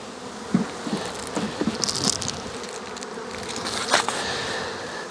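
Honey bees in a late-season colony with the hive cover pulled back, a continuous close buzzing with individual bees darting past the microphone and scattered light knocks.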